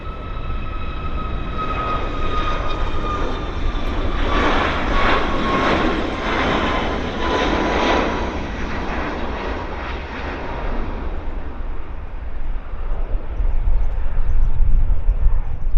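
WestJet airliner taxiing at Vancouver Airport, its jet engines giving a steady, loud broadband roar with a sustained whine, rising slightly toward the end, with no voices.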